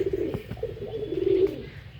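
Pigeons in a breeding setup cooing close by, a steady run of soft, low throaty coos with a few brief sharper clicks, no talk.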